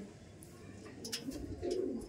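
Close, low cooing from caged Rampuri pigeons swells in two or three murmuring phrases, growing louder toward the end, with faint higher chirps in the background.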